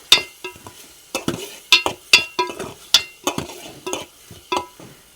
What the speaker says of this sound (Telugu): ఇప్పుడు ఇది బాగా 5 నిమిషాల పాటు బాగా ఫ్రై అవ్వాలి.